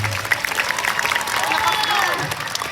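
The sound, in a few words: applause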